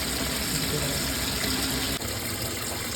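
Water fills into a container in a small home garden, a loud, close, continuous gushing pour that runs steadily with only a brief dip partway through.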